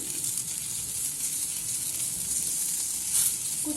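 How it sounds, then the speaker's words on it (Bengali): Onions fry in a pan with very little oil, giving a steady, fairly loud hissing sizzle that holds through, with one brief brighter flare near the end and no voices. "পেঁয়াজ দিয়ে দিচ্ছি"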